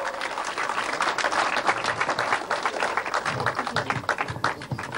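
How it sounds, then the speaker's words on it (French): An audience at an international event in Nice claps loudly and steadily, a close, thick wash of hands that thins slightly toward the end. "pouvez applaudir très fort"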